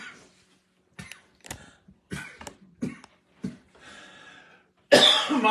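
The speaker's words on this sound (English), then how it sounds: "you made me cough" A woman coughs in several short, sharp bursts close by while tasting a chopped cold cut sandwich, the coughs spaced irregularly across the moment, with a louder rustling noise at the end.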